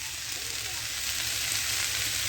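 Turnip with stalks frying in a pan, a steady, even sizzle that holds without a break at moderate loudness.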